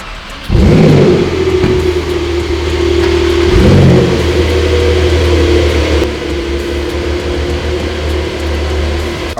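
Several Porsche cars maneuver in reverse inside a private airplane hangar, their engines revving up near and loud before settling into a steady idling rumble, with no talking.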